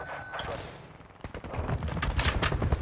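Rapid automatic gunfire in Call of Duty: Modern Warfare II, with scattered shots at first building into dense bursts of firing, partly overlapping in-game voice chatter.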